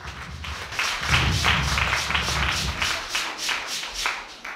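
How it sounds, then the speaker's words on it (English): A congregation at a church wake-keep claps in praise, steady rhythmic group clapping at a quick, even beat, loud and close, sustained for several seconds without talk. "hallelujah, a clap of praise unto the Lord"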